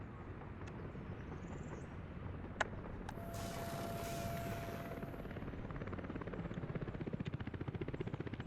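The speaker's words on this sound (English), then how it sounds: "the helicopters are actually pulling their weight pretty good" Helicopters fly steadily over a city built in Workers & Resources, a constant rotor drone with rhythmic thumping that grows more pronounced toward the end, broken by a couple of brief clicks.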